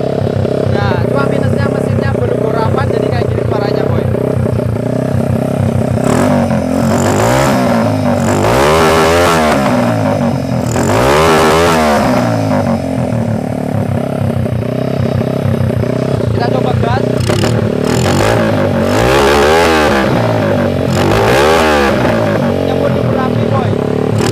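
A Honda Tiger motorcycle engine with an aftermarket silencer idles and revs repeatedly with a throaty exhaust note, loud and close, rising and falling in several bursts.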